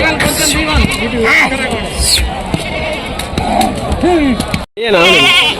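Young rams and goats bleat repeatedly at the weekly animal market in Rajarampalli, their wavering cries close and loud over a babble of nearby voices.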